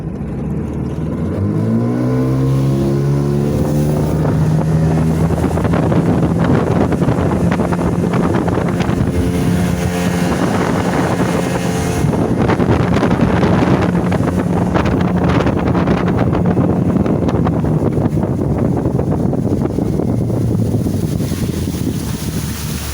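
An outboard motor on a jon boat with console steering roars steadily at full throttle throughout, a loud continuous engine drone mixed with heavy wind noise, with no talking.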